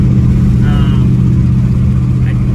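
A 1955 Buick engine with an exhaust leak idles steadily and loudly up close, a continuous low rumble with a faint higher tone briefly rising above it.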